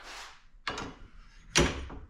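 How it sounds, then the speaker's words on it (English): A pull-down attic door in a garage is worked with two distinct thumping, rattling impacts about a second apart, fairly close and loud, with quiet gaps between. "The attic door come down, and hold on front here, I'm gonna try to show you this."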